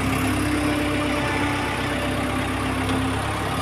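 A Hamm road roller's diesel engine runs steadily in reverse, a loud continuous mid-pitched idle drone with a constant whine and no speech.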